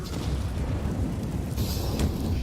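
Grenades going off in a professional Counter-Strike match at a major tournament grand final, a dense rumbling boom sustained throughout with a sharper burst near the end.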